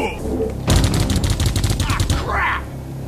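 Rapid gunfire rattles in the video game Geist, a loud, dense burst of repeated shots lasting a couple of seconds, followed by a swooshing effect and quieter game sounds.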